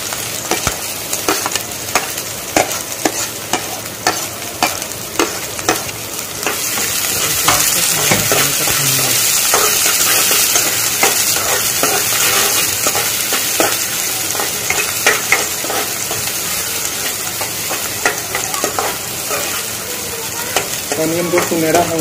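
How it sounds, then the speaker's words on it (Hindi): Chopped onions fry in a pan for egg fried rice, a loud steady sizzle running throughout with frequent stirring scrapes and clinks, alone with no voices. "ऑनियन को सुनहरा होने तक थोड़ा सा भूनेंगे।"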